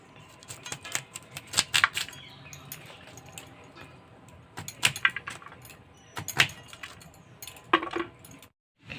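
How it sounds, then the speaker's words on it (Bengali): Cauliflower is cut in a kitchen, giving close, irregular knife taps, snaps and small clinks with quieter stretches between them and a brief silence near the end, with no one talking. "আমি এখন ফুলকপি কেটে নিচ্ছি"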